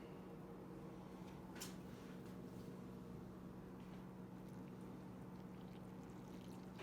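Water is poured steadily into a bowl of flour to make sourdough, a soft, continuous faint trickle lasting several seconds with one brief brighter splash, and no talk.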